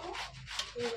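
Mangoes rasp against a hand grater in quick, close scraping strokes, a few rough rubbing passes within a single second.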